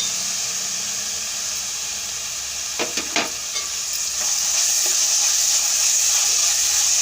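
Bitter gourd and onions frying in oil give a continuous close sizzle and hiss, with a few brief stirring knocks partway through and the frying growing slightly louder afterward.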